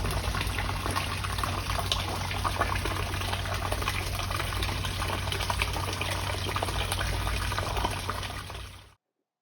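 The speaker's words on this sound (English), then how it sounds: "Do you hear that noise? That's our fish pond." Water trickling and splashing in a backyard fish pond, a dense, continuous, fairly loud wash with a low rumble beneath, running steadily before cutting off abruptly, with no voices.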